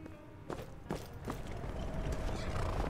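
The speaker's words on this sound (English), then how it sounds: "Alright, Maramal, let's leave the horses here" Horse hooves clip-clop in the Skyrim video game, a few distinct hoof thuds at a walking pace followed by denser, overlapping stepping and a soft snort-like rustle, all fairly quiet and close.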